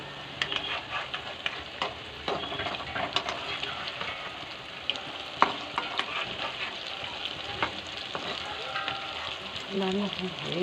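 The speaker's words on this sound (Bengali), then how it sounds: "এই পিঠটা লাল হয়ে গেছে, এবার উল্টে দিই" Prawn fritters fry in a pan of oil, a steady close sizzle broken by sharp clicks and scrapes as they are turned, with a voice speaking intermittently over the cooking.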